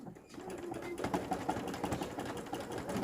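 A sewing machine stitches a picot decorative pattern on a table runner. The motor's steady mechanical whirring runs continuously at moderate level, hand-guided fabric, with no speech over it.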